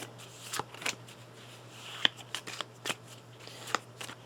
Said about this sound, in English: I'm shuffling up the deck